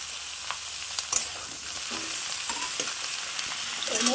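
Pumpkin and flat beans frying in a pan for a Bengali Thakurbari-style matar dal, a steady close sizzle with occasional light clinks of stirring.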